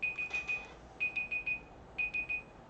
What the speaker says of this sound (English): shut the timer up.